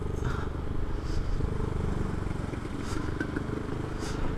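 A Honda ADV 150 scooter with a stock engine and a custom exhaust idles or runs steadily close by, a continuous low rumble with faint clattering on top.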